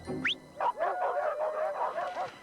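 Dogs in a Subaru Outback television commercial give a rising yip, then a run of barks, howls and whimpering cries over about two seconds, close and clear, with no talking.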